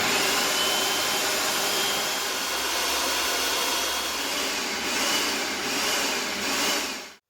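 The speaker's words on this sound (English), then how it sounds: "what if we try the pulse to chop and see what happens, Josh?" Food processor running while making homemade butter, a loud continuous motor whir holding steady for several seconds before it cuts off abruptly at the end.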